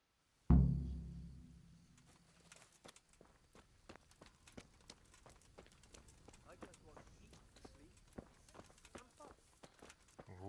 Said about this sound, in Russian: Лошади здесь.